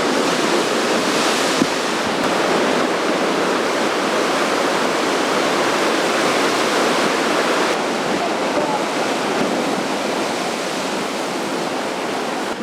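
A river runs alongside a coastal Big Sur trail, giving a continuous loud rushing wash of water heard close by, with wind-like hiss and one or two faint knocks and no clear speech.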